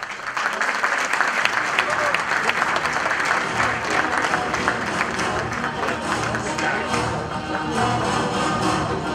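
A crowd at a Sakarya sports awards night applauds loudly and continuously, thick clapping holding steady throughout with some individual claps standing out.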